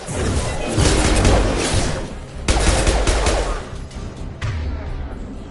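Loud, close gunfire in Mass Effect 2, sustained automatic bursts broken by two short pauses, harsh and dense throughout.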